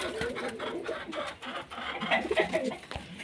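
A group of pigeons being sold coo and flutter nearby in a few short, uneven bursts over low background noise.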